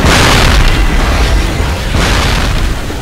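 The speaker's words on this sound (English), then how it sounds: "It was literally just a metal bridge blowing up." A metal bridge blowing up in the video game Cold Fear, a loud deep boom rolling into a heavy sustained rumble, with a second swell of blast noise near the end.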